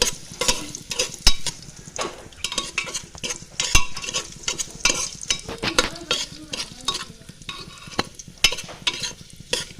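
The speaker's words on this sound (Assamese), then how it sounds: "এতিয়া মই ইয়াতে দি দিম খিচমিচকেইটা। আৰু খিচমিচকেইটা অকণমান ফুলি উঠালৈকে মই লৰাই থাকিম।" Cashews and raisins frying in oil in a pan, stirred with a utensil that scrapes and clinks against the metal in quick irregular strokes over a steady sizzle, close by.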